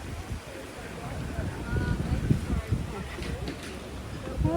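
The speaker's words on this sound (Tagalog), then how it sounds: "Mahangin today." Gusty wind rumbles against the microphone at an outdoor market while people talk nearby, the blustering rising and falling.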